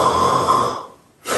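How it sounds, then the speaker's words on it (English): Ujjayi pranayama breath, a snore-like constricted inhale or exhale through the throat, one steady hissing breath that fades, a brief pause, then the next breath starting close by. "So let's do a snore together."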